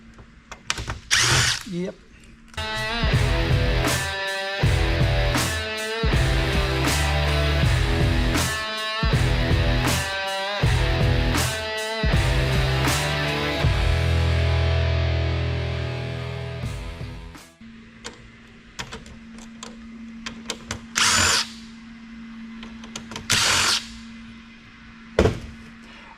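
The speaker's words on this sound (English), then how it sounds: "Time to do a little unscrewing. Hopefully I got the right Torx in here." A power screwdriver backs Torx screws out of a Dell PowerEdge server being scrapped, a run of loud whirring bursts with short pauses over the first seventeen seconds, then scattered clunks and handling noise, with a brief spoken word.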